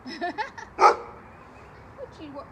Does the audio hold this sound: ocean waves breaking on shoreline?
no